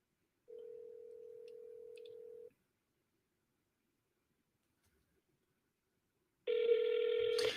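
During a cold call, a telephone ringback tone sounds as a steady two-second burr, then silence, then another ring that keeps going unanswered. The tone is clear and close, with no voices.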